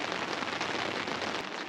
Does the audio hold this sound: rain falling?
yes